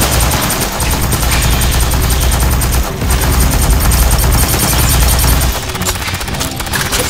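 Sustained automatic gunfire in Aliens: Fireteam Elite horde mode, loud and continuous with dense rapid shots, a brief break near three seconds, then easing slightly toward the end.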